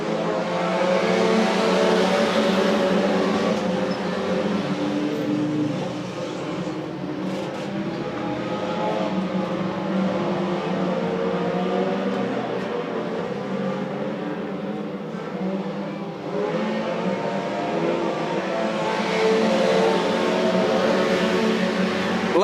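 Pack of speedway race cars roaring away together at the green-flag start, a loud continuous engine blare swelling and fading as the field passes, with brief tire squeal; no voices.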